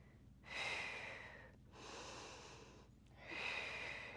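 Deep, audible breathing during a Pilates workout at home, three long, breathy inhales and exhales in slow rhythm, close and fairly quiet with no talking.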